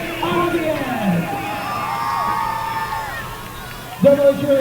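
Crowd at a high school football game between the Del Valle Cardinals and Westlake Chaparrals: loud cheering and whooping from many voices, building in bursts, with a separate voice shouting over it near the end.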